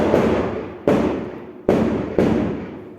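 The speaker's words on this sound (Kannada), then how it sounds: "ಬರೀ ಪಟಾಕಿ ಜೋರು ಹೊಡಿತಾ ಇದ್ದಾರೆ" Four sharp firecracker bangs during the Dhanteras festival, each followed by a long fading rumble, spaced roughly evenly over a few seconds, loud and near.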